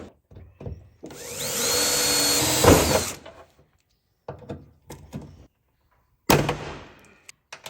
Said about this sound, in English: Now you can drill your other two holes.